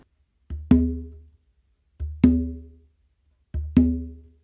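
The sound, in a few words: ghost note then open tone on bongo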